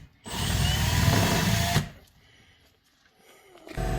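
A power drill bores through a metal jig plate while fitting a Baja Designs fog light, one loud sustained run of about a second and a half, then it stops and near silence follows until another burst begins.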